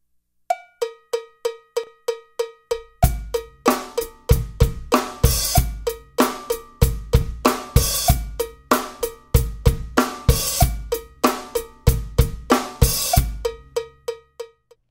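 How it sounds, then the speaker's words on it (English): Drum groove with bass drum and the hi-hat opening on the and of four, steady repeating rhythm of sharp metallic hits with a deeper kick entering after a few seconds, played alone and close. "I want to give you an example of what's going to happen when you open on the and of beat four."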